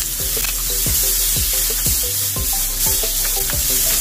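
Tomato stirred in a hot frying pan, with steady loud sizzling and rhythmic scraping strokes of the spoon repeating about twice a second, close up with no voices.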